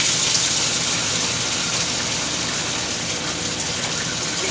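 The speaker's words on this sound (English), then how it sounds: "put it in the hot oil." Pieces of cut meat fry in hot oil, giving a steady, loud, dense hiss that holds level throughout with no pauses or talking.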